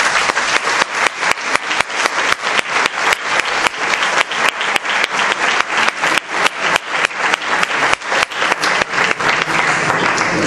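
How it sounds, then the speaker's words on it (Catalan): Loud audience applause at a local event, a full crowd clapping continuously for about ten seconds with strong, close, rhythmic hand claps cutting through the dense wash, with no one speaking. "El primer aplaudiment que és per a tots ells."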